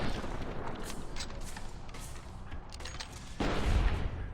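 Gunshots in Fallout: New Vegas, muffled booming reports over a steady noisy background, with a sharper, louder shot toward the end.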